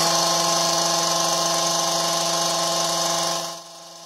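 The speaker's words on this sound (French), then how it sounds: "La tronçonneuse, ça fait du bruit et ça fait mal aux oreilles." A loud, steady chainsaw motor whines at high revs, close by, dropping to a lower idle near the end.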